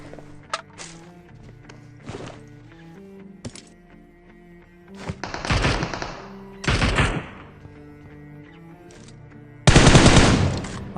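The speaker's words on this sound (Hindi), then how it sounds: "राइट की तरफ में भी एक गन चली थी" Gunfire rings out in PUBG Mobile, a battle royale game, as scattered single shots and several loud automatic bursts mixed with footsteps and clatter, some near, some farther off.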